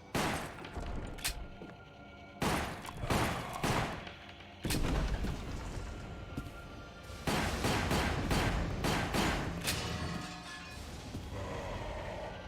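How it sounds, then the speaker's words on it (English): Gunshots fired at lights in the rail-shooter game Resident Evil: The Umbrella Chronicles, sharp single cracks and quick volleys spaced irregularly, with short quiet gaps between bursts of shooting. "we are just shooting up every single light source possible"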